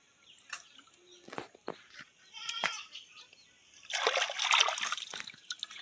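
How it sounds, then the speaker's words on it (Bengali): Hands splash and slosh water while washing cut mud eel in a village pond in the Sundarbans, soft irregular dips and trickles up close, building to a longer, busier splashing near the end. "এইভাবে পুকুরে ধুয়ে নিচ্ছি ভালো করে যাতে না নোংরা থাকে"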